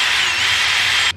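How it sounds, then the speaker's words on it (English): A hand drill whirs steadily as it bores holes through 3D-printed plastic fuselage parts for an RC jet, loud and close, then cuts off abruptly after about a second. "I'm just going to drill out the holes for the rest of these pieces here"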